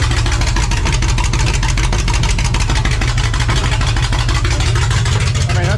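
The engine of a 1982 Ford F-150 pickup with a manual transmission idles low and steady at about 600 rpm, its loud, close rumble pulsing evenly and without a break.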